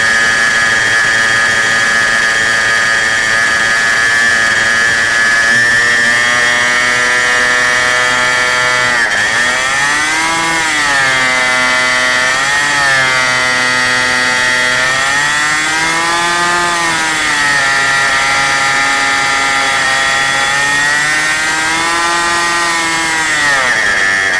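An ASP 91 model aircraft engine runs loud and steady after a bump start, a high buzzing drone that rises and falls in pitch as the throttle changes, with no talk.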